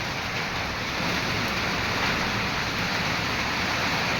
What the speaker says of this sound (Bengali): আমরা দুই টোনাটুনি ঘরের মধ্যে বসে বসে বৃষ্টি দেখছি জানলা দিয়ে